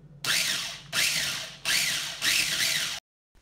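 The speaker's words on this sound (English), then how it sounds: "Just gonna blend it again." A kitchen blender pulses a sauce of coconut aminos, rice vinegar and tomato paste. Four loud, gritty whirring bursts come in a steady rhythm, each under a second long. Each burst stops abruptly and is followed by a short pause, with no talk.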